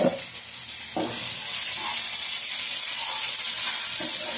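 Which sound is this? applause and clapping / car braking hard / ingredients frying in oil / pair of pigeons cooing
ingredients frying in oil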